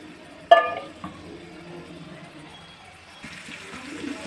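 Water from a glass poured into simmering fish curry masala made with large fish pieces: a sharp metal clank, then a steady hissing splash rising near the end over a low kitchen background.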